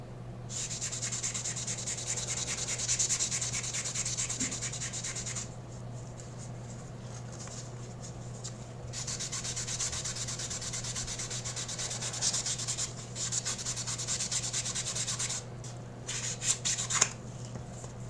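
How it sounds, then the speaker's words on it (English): Steady back-and-forth rasping of sandpaper on a prop Master Sword, in long continuous strokes with brief pauses between passes, close up. "I switch to sanding something else."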